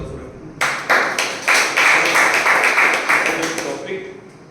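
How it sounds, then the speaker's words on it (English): A round of applause from a small audience at a Toastmasters meeting, starting with a few separate claps, then swelling into steady clapping that gradually thins toward the end. "Round of applause for him."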